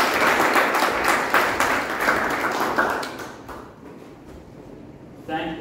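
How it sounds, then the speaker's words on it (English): An audience at a Toastmasters club meeting breaks into steady applause for a few seconds, then the clapping thins out and fades, with faint voices as it ends. "please do not clap for me, but clap for you."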